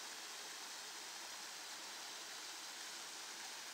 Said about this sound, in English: right away we've come across another waterfall.